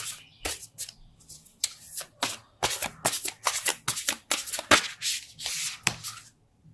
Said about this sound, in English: these cards are so big, they're hard for me to shuffle